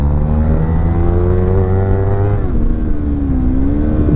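Kawasaki Z300 motorcycle engine revving hard, climbing in pitch then dropping sharply at a gear shift before rising again, loud and close.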